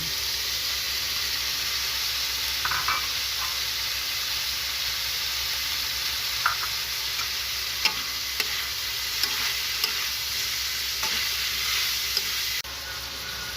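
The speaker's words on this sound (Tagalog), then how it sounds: "Atay lang ng manok yung nilagay ko. Halogin na natin sila. Lagay na natin ating hipon." Chicken liver and shrimp frying in a pan, with a steady hot sizzle and scattered scraping clicks of stirring running through throughout, no talk.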